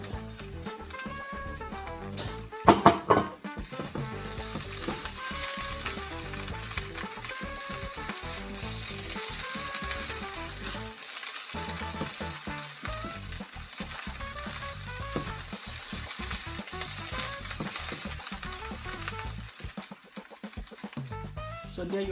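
Beef frying and being stirred into a pot of Nigerian fried rice, giving a steady sizzle with scraping stir strokes that goes on throughout, with a brief louder clatter near the start.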